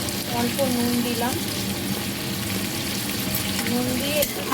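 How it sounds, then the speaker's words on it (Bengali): Mixed vegetables with green peas and a little salt sautéing in oil in a kadai for khichuri, a steady close sizzle with occasional stirring scrapes throughout. "নুন দিয়ে একটু সবজিগুলোকে একটু নাড়াচাড়া করে নেব, হালকা করে একটু নাড়াচাড়া করে নেব তেলের মধ্যে।"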